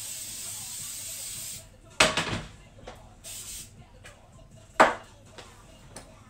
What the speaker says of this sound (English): I'm gonna just spray my pan because it's heating up.